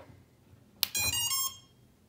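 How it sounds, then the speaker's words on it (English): A short burst of electronic beeps from a drone's new ESC starting up, a quick click followed by a bright rising tone sequence lasting about half a second, then quiet. "the new ESC is in and we're going to see if this thing makes some beeps now"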